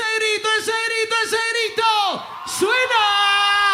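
A festival crowd at the Fiesta del Frío in Río Gallegos, a live concert, shouting and whooping loudly in rhythmic bursts, then a long sustained cheer.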